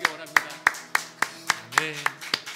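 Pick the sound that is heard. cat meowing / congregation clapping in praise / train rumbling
congregation clapping in praise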